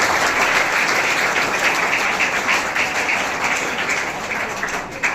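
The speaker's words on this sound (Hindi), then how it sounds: "तालियों के साथ स्वागत होगा" Steady, dense applause from an audience welcoming a guest at a school event hall in Balotra, continuous and fairly loud for the whole stretch with no speech over it.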